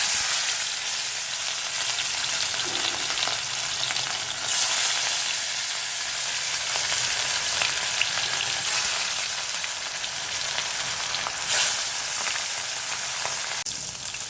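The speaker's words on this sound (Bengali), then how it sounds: "তেল গরম হয়ে গেছে, এবার আমি একে একে মাছগুলো দিয়ে দেবো।" Catla fish pieces frying in hot oil, a continuous loud, even sizzle with occasional sharper spits and crackles, close up and with no voices.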